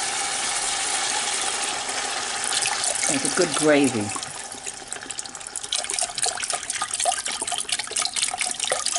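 Organic beef stock pours from a whole 32-ounce carton into a pressure cooker, a brief liquid splashing and glugging lasting a couple of seconds, with a person talking nearby over kitchen background noise.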